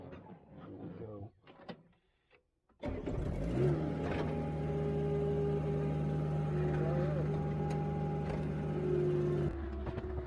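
A skid steer loader's engine cranks briefly and catches, settling into a steady, loud, droning idle with a constant hum that runs on nearby; a person speaks just before it turns over.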